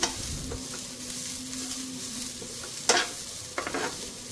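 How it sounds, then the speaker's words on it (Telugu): Salt and turmeric being stirred into food frying in a pan, a steady soft sizzle with a couple of sharper scraping stirs of the spoon, close by and without talk. "పసుపు వేసుకొని బాగా కలిపెట్టుకోవాలి"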